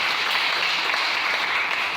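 A church congregation applauds in a steady, dense wash of clapping that holds at an even level from start to finish.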